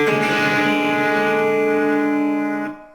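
A single electric guitar chord from a song rings out with a slightly driven tone, sustaining steadily for a few seconds before being cut off.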